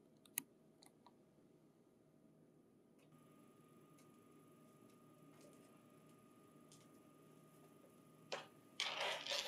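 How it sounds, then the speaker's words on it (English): Cable clamps being attached to a Lexmark printer's 500-sheet staple finisher, a few sharp plastic clicks and quiet handling sounds, with a louder rustling clatter at the end. "Attach the cable clamps to the printer."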